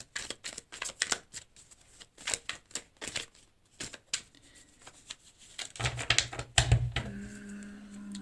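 Tarot cards being cut and shuffled, a quiet series of crisp riffling flicks and slaps in irregular bursts, followed by a louder flurry of shuffling near the end.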